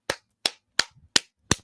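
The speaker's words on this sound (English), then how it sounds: "clapping his hands." Five sharp hand claps ring out alone at an even, steady rhythm, each crisp and close with silence between them.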